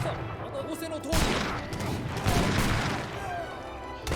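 Musketeers fire volleys of muskets in an Age of Empires III DE battle, producing dense crackling bursts of overlapping gunshots with a few heavier booms, continuous across the whole stretch.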